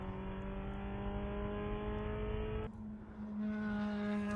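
A Pro Spec Miata race car accelerates along a track straight. Its engine gives a steady, tonal, high-revving drone, then a brief dip at an upshift before it climbs again. The sound is clear and sustained, with no voices.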